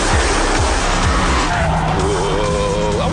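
Renault Megane hot hatch tyres squeal loudly on track under a hard-revving engine, with pitch sliding as the car corners, close and continuous.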